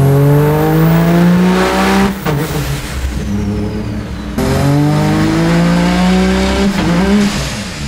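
A turbocharged Vancruiser with about 600 horsepower accelerates hard on a boosted run, its loud engine rising in pitch through one gear, dropping briefly at a shift, then climbing again.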